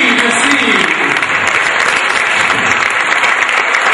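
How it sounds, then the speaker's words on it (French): Loud, sustained applause from a large conference audience, dense clapping continuing steadily throughout with a voice faintly under it. "de remercier et d'applaudir l'ensemble des intervenants"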